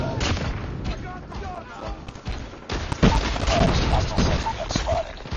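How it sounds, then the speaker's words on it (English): Rapid automatic fire from a sentry gun in a Call of Duty multiplayer match, dense crackling bursts running throughout amid other game sounds and a voice talking. "Oh, he's starting to fire the sentry gun."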